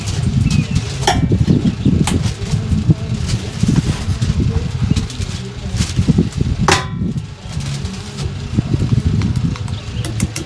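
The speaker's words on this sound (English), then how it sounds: "the wind's going to pick up when you're trying to do something" Wind blows outdoors in a steady low buffeting rumble across the whole stretch, with occasional faint rustles and light clicks, up close and fairly loud.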